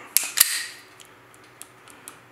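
An empty FN FNS 40 pistol in .40 S&W is dry-fired, giving two sharp mechanical clicks near the start, followed by a few faint small ticks of handling.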